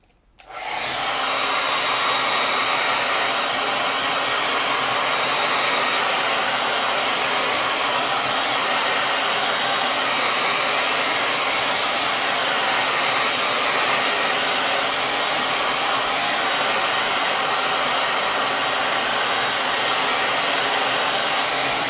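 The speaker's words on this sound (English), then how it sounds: "I'm going to just take the blow dryer and I'm going to blow it dry a little bit" A hair dryer switches on and blows with a loud, steady whooshing roar that continues unchanged throughout, drying paint on a wooden door hanger.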